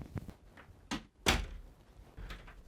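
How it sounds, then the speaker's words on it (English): A household door being shut, a sharp close thud amid a few quieter bumps and shuffles, in a quiet indoor room. "Why don't you shut the door behind you?"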